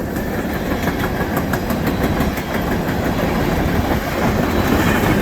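A Union Pacific locomotive leads a CN freight train north of Conrath, Manitoba, a loud continuous rumble of engine and rolling cars passing close with rhythmic wheel clatter.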